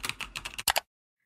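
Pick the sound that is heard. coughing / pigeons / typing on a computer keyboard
typing on a computer keyboard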